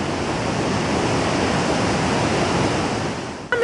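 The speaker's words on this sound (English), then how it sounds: "I'm in seventh heaven with the amount of water that's flowing." River water rushes through a gorge along the Blackstone River after heavy flow, a loud, continuous broadband roar of churning current that stays steady throughout before a brief sound at the very end.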